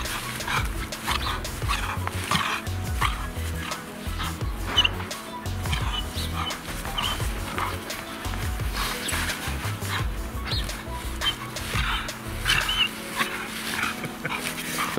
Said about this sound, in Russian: Игривая собака.